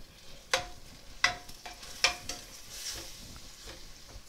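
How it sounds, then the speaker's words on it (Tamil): Mutton pepper masala stirred in a pan, giving a soft background sizzle punctuated by several distinct scraping and clinking strokes at irregular intervals. "அதை நல்லா அப்படியே கலக்கி விட்டுக்கலாம்."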